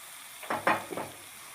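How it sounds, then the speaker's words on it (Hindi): Chicken tikka hitting hot oil in a pan, a few short sizzling bursts in quick succession that flare up and fade, fairly quiet and close with no talk. "अब मैं ये ऑयल डाल रहा हूँ चिकन टिक्के के को मैं फ्राई करूँगा।"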